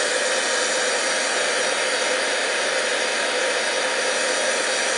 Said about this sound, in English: And I'm going to bring in my heat tool.